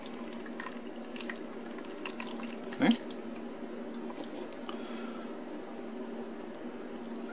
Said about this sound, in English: I can just use the clean water to rinse it off.